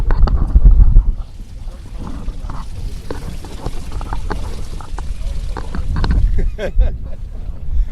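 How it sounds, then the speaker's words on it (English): Strong wind blowing over a lake while fishing for lake trout from a boat, gusty buffeting rumble against the microphone with sloshing water and small knocks, rising and falling in strength. "the wind has picked up out here. It's blowing pretty hard"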